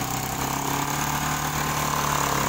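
A Yamaha Xeon motorcycle engine idles steadily in a repair workshop, giving a close, even, rhythmic putter for the whole short stretch with no talk.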